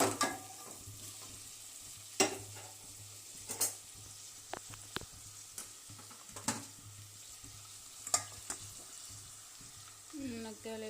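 Drumsticks (moringa pods) sizzle steadily in a pan, a soft continuous fry broken by scattered scraping clicks of stirring, fairly quiet throughout with no voices.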